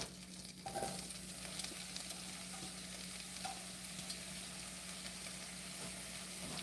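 Sliced mushrooms sauté in three tablespoons of melted butter in a pan over a gas flame, giving a steady soft sizzle with a faint low hum running underneath throughout.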